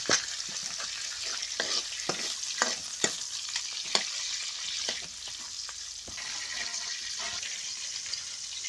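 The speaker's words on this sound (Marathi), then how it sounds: "त्याला ते व्यवस्थित परतून घ्यायचं आहे." Masala frying in a pan for a dried bombil fish curry with coconut and peanuts, with a constant close sizzle broken by regular spatula taps and scrapes from stirring.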